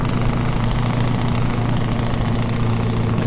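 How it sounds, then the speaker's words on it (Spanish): A Mack Ultraliner truck in Euro Truck Simulator 2 hauls 40 tonnes uphill on a Brazil map, its engine a steady, loud, low droning rumble throughout, with no one speaking. "Y escuchamos el motor, qué bien se escucha."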